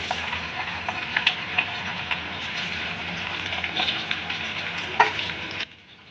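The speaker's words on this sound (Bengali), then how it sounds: "দেখুন তো তেলটা এবার গরম হয়ে গেছে। এবারে এক এক করে চিকেনগুলো দিয়ে দেবো।" Chicken pieces frying in hot oil in a wok, a close, crackling sizzle with scattered spatters and stirring knocks that cuts off abruptly near the end.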